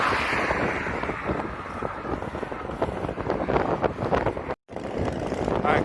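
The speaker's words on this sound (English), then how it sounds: "hopefully the wind isn't too loud in the speaker" Steady, loud wind buffeting a microphone during a triathlon training bike ride, a continuous rushing roar that fills the sound with only a brief dropout near the end.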